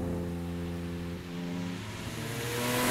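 Revving hard and climbing in pitch, the V6 engine swapped into a Toyota MR2 sounds close and loud, building to a high-pitched scream with a brief dip partway through.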